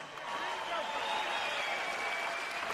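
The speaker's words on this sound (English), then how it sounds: "How about a big round of applause for these 2 amazing warriors?" Boxing arena crowd applauding two heavyweight fighters after the bout, a continuous wash of clapping and cheering heard at a distance beneath a ring announcer's voice.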